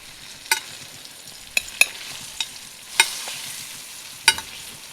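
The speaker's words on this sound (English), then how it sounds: "Baste it. Add some more butter." A salmon fillet frying in a pan while being basted with butter, a soft sizzle punctuated by several crisp spoon clinks and spattering pops at irregular intervals.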